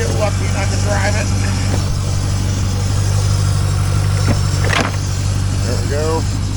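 A 2000 Chevrolet Corvette C5 with the LS1 V8 idling at a salvage yard, a steady low rumbling drone throughout, close and loud, with people talking over it.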